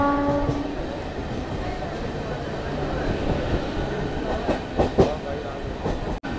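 Rumbling rattle of a local train from Howrah to Purulia running along the tracks, steady and fairly loud, with clattering wheel noise and a sharp click near the end.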